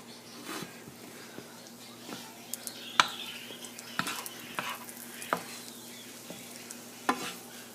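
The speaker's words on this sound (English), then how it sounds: "And you know your bread is cooking when you hear that" Quiet steady sizzling of bread frying in butter in a pan, with occasional sharp clinks and scrapes of a utensil stirring, a low hum underneath.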